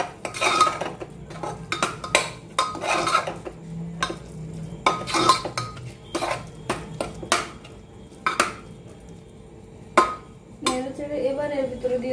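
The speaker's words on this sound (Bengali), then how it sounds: "একটু নেড়ে চেড়ে দেবো।" Spices being stirred in a metal cooking pot, giving repeated scraping and clinking of a spoon against the pot in an uneven rhythm, close and fairly loud, with brief talk near the end.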